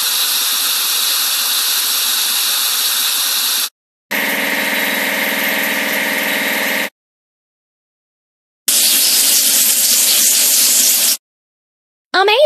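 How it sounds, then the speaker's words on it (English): Water spray washing down a plow tractor in a mobile farming game, heard as loud, steady hissing bursts of several seconds each, separated by short silences, with no voices. "Now let's wash the plow tractor."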